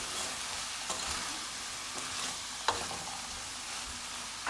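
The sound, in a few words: stirring chicken stew with black pepper and salt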